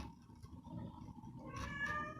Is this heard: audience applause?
no